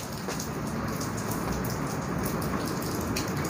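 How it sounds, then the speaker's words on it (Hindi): Steady heavy rain falls in a dense, constant hiss with scattered drops pattering on a surface, loud and unbroken throughout with no voices. "बहुत ही अच्छी बारिश आ रही है।"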